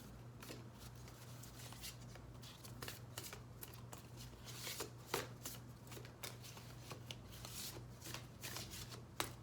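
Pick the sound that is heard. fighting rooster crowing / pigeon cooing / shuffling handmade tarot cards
shuffling handmade tarot cards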